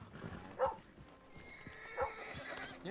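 A dog in Red Dead Redemption 2 gives two short barks about a second and a half apart, at moderate distance over soft in-game ambience.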